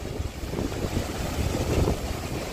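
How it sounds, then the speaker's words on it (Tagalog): Strong wind gusts buffet the microphone beside a river, a steady low roar and rumble with no other clear sounds. "Lakas ng hangin."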